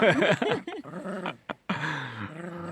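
A 13-year-old dog growls and whimpers in play, close and fairly loud, with rising and falling rumbles, short yips and a brief gap before a longer, lower growl.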